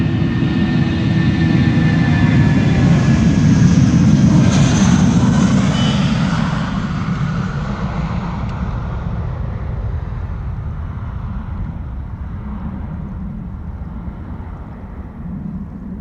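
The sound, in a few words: SAS airliner in retro livery departing Amsterdam Schiphol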